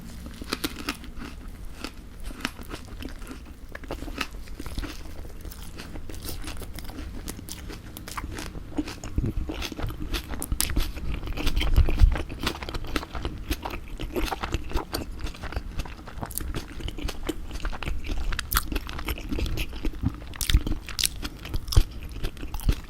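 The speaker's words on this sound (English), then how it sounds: "This should get a bit of crunching going now." Close, crisp crunching and chewing of crispy duck wrapped in pancakes, a steady run of bites and mastication sounds with no talking.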